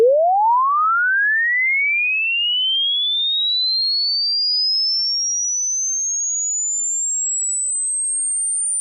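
Pure sine sweep test tone gliding smoothly upward from deep bass to very high pitch, running 20 Hz to 20 kHz; steady, clean and continuous, with nothing else heard.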